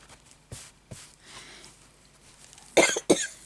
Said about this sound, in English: Oh dear, not this coughing thing again.